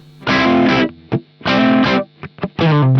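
Electric guitar through the stock Matchless D-30 amp model on a Fractal FM9: loud, distorted chords ringing out in bursts, with short muted stabs between the sustained strums.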